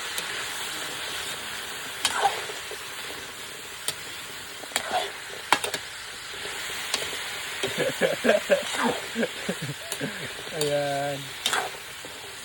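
Squash (kalabasa) is stirred in a frying pan for ginataang kalabasa with shrimp, a soft sizzle under scattered scraping clicks of the utensil, with someone speaking briefly near the end.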